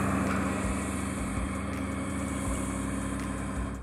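A tractor pulls a boat across the beach at Ilha Comprida to launch it. Its engine gives a close, loud, steady low drone, broken by periodic heavier thumps, with no talk.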